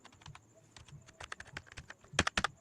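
Fingers tap a computer keyboard, entering stock items in accounting software, with quick clusters of close, crisp keystrokes building to a brisk burst near the end.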